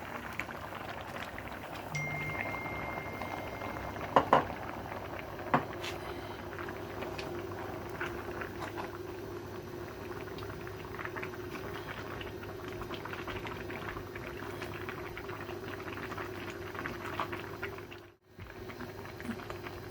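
A pot of milk and grated carrot for carrot barfi bubbles and simmers steadily, a continuous soft boiling hiss with occasional light clinks, no talking.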